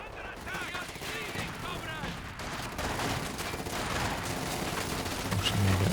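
Maxim machine gun fire rattles through a Company of Heroes 2 battle, dense sustained bursts and battlefield clatter filling the whole stretch, with a commentator's voice talking over it.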